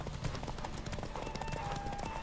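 A horse gallops in The Witcher 3 video game, its hooves pounding in a rapid continuous rhythm under dense game sound and music.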